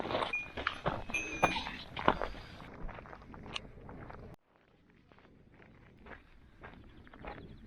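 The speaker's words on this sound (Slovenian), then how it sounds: "tle so pa ovce čist zasedle cesto" A flock of sheep crowding a road on a hike in Cyprus, with a busy jumble of bleats, clinking bells and hoof steps, then the scene drops abruptly to a quieter, sparser stretch of shuffling and occasional bleating.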